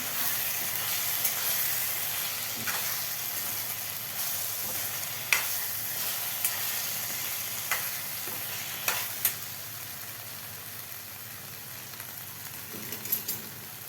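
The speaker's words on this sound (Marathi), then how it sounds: "यामध्ये आता आपल्याला घालायचे फ्राय करून घेतलेले मशरूम व्यवस्थित आपल्याला हे मिक्स करून घ्यायचं आहे मसाल्यामध्ये मशरूम" Fried mushrooms stirred into sizzling masala in a pan, a steady close frying hiss with occasional scraping and clinking from the spoon.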